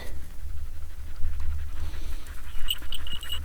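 Hunting dogs pant steadily and close by in an open field of harvested corn and beet crops during a hunt, a continuous rapid breathing rhythm over low rumbling wind.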